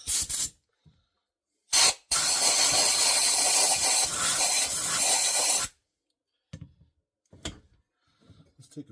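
Compressed air pushed through a long hose blows moisture out of a pump, a loud steady spraying hiss lasting several seconds, preceded and followed by short bursts and quieter clatter.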